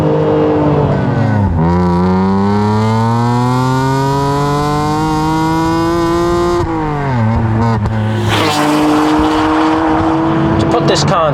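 The high-revving S54 straight-six engine of a BMW Z4 M climbs steadily in pitch, drops between shifts, then screams up again, loud and close.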